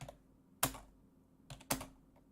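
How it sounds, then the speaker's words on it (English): Loud clacking on a computer keyboard, a few sharp, close key strikes separated by pauses, the last two arriving in quick succession, with no talking. "The world's loudest keyboard is back."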